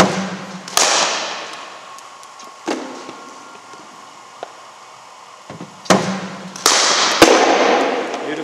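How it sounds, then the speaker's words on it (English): Sharp, loud cracks of a cricket bat striking the ball at a cricket academy net session, two main impacts several seconds apart with a few lighter knocks between. "Beautiful shot, Matt."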